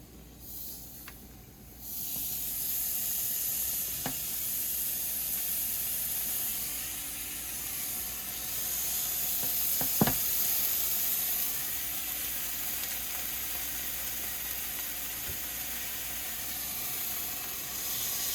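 Bacon sizzles in an ungreased pan with a steady, close hiss that rises after a quieter start, with occasional faint clicks and pops.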